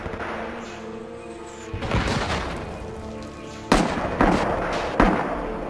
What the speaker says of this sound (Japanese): ヘビーアーティインカミング、ヘビーアーティインカミング